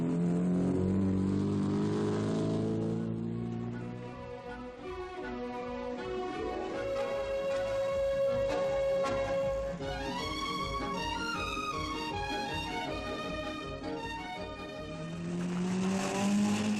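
Rally cars in the 1960 Monte Carlo Rally run down the Grande Corniche toward Monaco, engines revving and rising and falling in pitch as they pass, with brief tire squeal.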